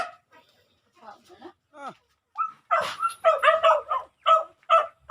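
Dogs at feeding time bark and yip excitedly in a rapid series of sharp, close barks, preceded by softer whines and whimpers, with some voices mixed in.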